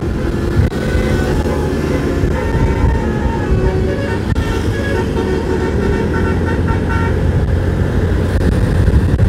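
Telolet bus horn tooting melodic notes amid loud busy traffic on a road at the West Java border, mixed with engine rumble and roadway noise.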